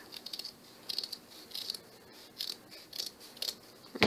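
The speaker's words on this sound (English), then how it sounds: "The next thing that I want to do is cut more burlap." Scissors snip through burlap fabric to cut out a heart shape, a series of short crisp cuts that come in small bursts and pauses. They are close and fairly quiet, with no talking.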